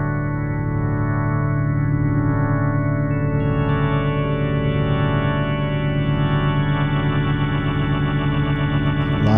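A Yamaha CK88 keyboard plays a sustained organ chord with drawbars and rotary, reverb and delay effects, a dense, swirling, shimmering tone held loud and steady with higher notes added partway.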